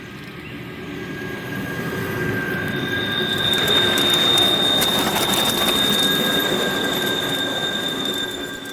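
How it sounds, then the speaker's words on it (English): The Bernina railway train climbing toward the Bernina Pass from Pontresina: a steady rumbling ride with wheel noise, clacking and a sustained high metallic squeal from the wheels, loud and continuous throughout. "We jumped straight onto the train and went up all the way to the Bernina Pass again."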